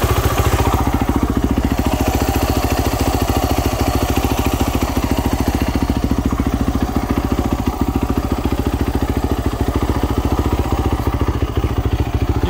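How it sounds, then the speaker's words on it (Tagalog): A 2010 Yamaha YZ450F fuel-injected motorcycle engine idles steadily up close, with a fast, even, low-pitched rhythmic thrum and a light mechanical clatter that holds unchanged throughout, with no talking. "Ayan po yung sounds ng makina."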